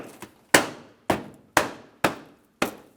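A 2009-2019 Ford Flex bumper cover is pressed into place by hand, giving five sharp, close plastic snaps at a steady, roughly half-second rhythm, each decaying quickly into quiet.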